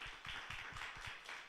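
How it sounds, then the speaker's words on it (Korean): A small group claps for teachers at a church youth-group Sunday service, with a brief burst of scattered, fairly quiet hand claps in an uneven rhythm. "다 같이 힘찬 박수 보내드리도록 합시다"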